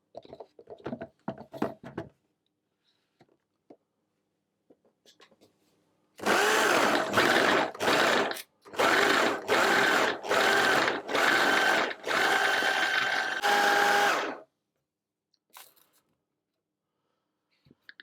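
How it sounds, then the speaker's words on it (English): A food processor works cold butter and flour for pecan shortbread in a string of loud, close motor pulses of a second or so each, preceded by faint clicks and handling noises. "I'm going to process that until it resembles coarse breadcrumbs, or a sort of a coarse sandy-like texture"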